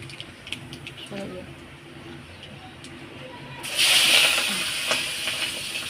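Vegetables for a Bengali pui shak curry with ilish fish head go into hot oil tempered with black cumin, setting off a sudden loud, steady sizzle partway through, after someone talks over faint kitchen noises.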